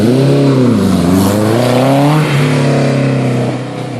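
A KTM car revs hard at a supercar meet, a loud, close engine note rising and falling in sweeps for about four seconds, alone without talk.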